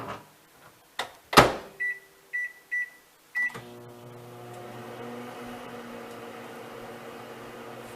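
A microwave oven heating an apple recipe: a door thump, a run of sharp keypad beeps, then the oven starts with a steady low hum and whirr that carries on close and even.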